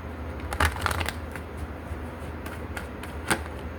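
Tarot cards are shuffled close by in a steady stream of papery riffles and flicks, with a few sharper slaps standing out, and no one speaks over them.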